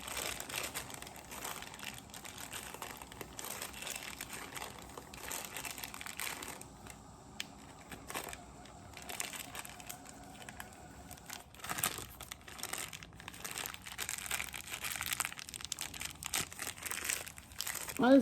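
A ziploc bag filled with frosting being zipped shut and squeezed, giving close crinkling and crackling plastic sounds that continue steadily with a few louder rustles near the end.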